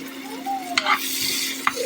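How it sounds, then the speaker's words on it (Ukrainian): Onions sizzle steadily in a hot frying pan, with a few sharp clinks and scrapes of a utensil stirring close by. "Отак спочатку я смажу цибулю лук."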